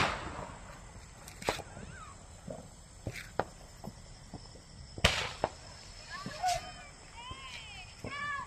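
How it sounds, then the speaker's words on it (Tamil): Diwali fireworks and rockets go off at a distance: sharp cracks and pops, plus several rising whistles as rockets launch, with people talking nearby. "அங்கே ராக்கெட் விடுறாங்க"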